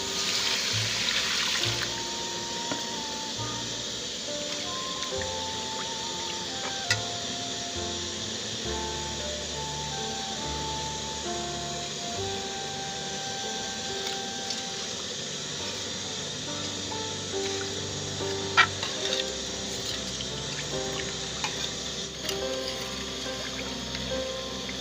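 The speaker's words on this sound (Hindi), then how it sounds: "1 लीटर पानी शामिल करूँगी।" About a litre of water runs steadily into a pot of masala for chicken pulao, a continuous pouring rush with a few faint clinks.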